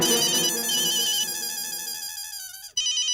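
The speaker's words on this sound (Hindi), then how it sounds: "जेठालाल का फोन।" Electronic phone ringtone plays loud and continuous in a melodic warbling pattern on a Hindi sitcom set, then cuts off abruptly near the end before a brief resumption, with no talking over it.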